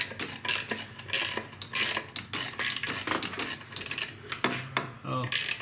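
Head gasket bolts are tightened on a 2006 Subaru Outback SOHC engine, giving a close series of quick ratchet clicks in short bursts with metallic rubbing and clinks between them.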